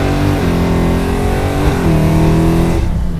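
A 600 hp fully caged 1967 Dodge Dart convertible accelerates hard, its loud, close engine roar climbing steadily in pitch through the gears before dropping away sharply near the end.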